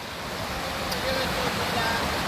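Cold mountain water pours down a natural waterfall in Borjomi, a steady broadband rush heard up close for a couple of seconds.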